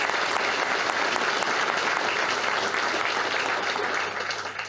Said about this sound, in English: So round of applause, please, for John Dwyer.